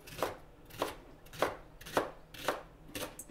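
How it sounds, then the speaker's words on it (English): A knife cuts rhubarb stalks into half-inch pieces on a board, six crisp, evenly spaced chops about half a second apart, close and fairly quiet, with no talking. "So I'm just going to chop these into just like 1/2-inch segments."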